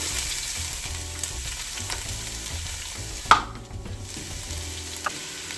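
Finely chopped ginger sizzles steadily in a hot pan while mutton biryani is being prepared, a continuous close frying hiss with one sharp utensil clack midway and a lighter tap near the end.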